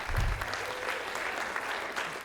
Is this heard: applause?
yes